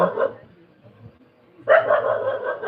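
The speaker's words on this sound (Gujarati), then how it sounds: "કૂતરા વડે છે કૂતરા વઢે છે બહુ છે" Dogs bark and snarl in a fight, a sharp burst of yelping at the start, then a lull with faint low growls, followed by a loud sustained run of barking and snarling nearby.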